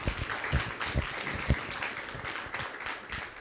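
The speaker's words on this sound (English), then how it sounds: "Give yourselves a round of applause for coming out" A packed university debate audience gives itself a round of applause, a dense burst of many hands clapping at once, fairly close and steady, with a few sharp louder claps poking through.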